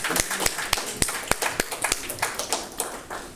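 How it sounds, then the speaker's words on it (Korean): Audience at a founding assembly of an interfaith religious coalition for national security claps to welcome a pastor, a steady crowd of separate hand claps with sharp individual smacks standing out, fairly close and without talk. "김용환 목사님 나오실 때 뜨거운 박수를 부탁드리겠습니다"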